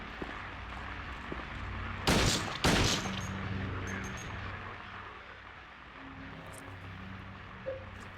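Gunshots ring out in the PS2 game Silent Hill 2 inside Brookhaven Hospital, two sharp loud blasts close together over a low droning game ambience.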